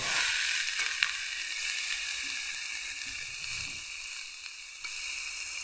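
Cauliflower, potato and eggplant sizzle steadily in a pan as they are stir-fried together for a rural home-style vegetable dish with radish greens, with a continuous close hiss and a few soft stirring scrapes, no voices.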